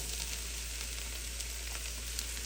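Mushrooms sauteing in a pan, a steady dense sizzle with faint crackles, continuous and even throughout, with no voices.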